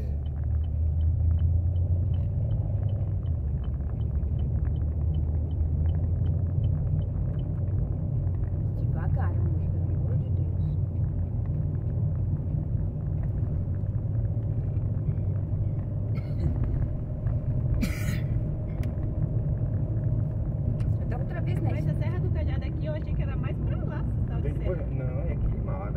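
Cars and trucks creep slowly along the Serra do Cadeado mountain road near Mauá da Serra, Paraná, a continuous low engine and road rumble heard from inside a vehicle, with people talking over it.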